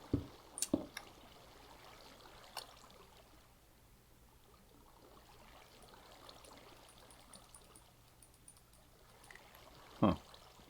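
Flowing water streams in Minecraft Infinity SkyBlock: a faint, steady trickling and running-water wash under soft ambience, broken by a few sharp clicks and taps near the start and one near the end, with no talk.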